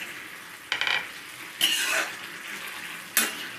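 A spoon scrapes and knocks against a pot of chickpea and pumpkin curry in three short bursts, at about 0.7, 1.6 and 3.2 seconds, with quieter simmering noise and stirring between them.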